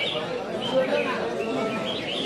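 Birds call at a bird-singing competition ground in Sơn Môn, Thái Nguyên, with chirps and coos blended into a steady crowd murmur as people talk throughout.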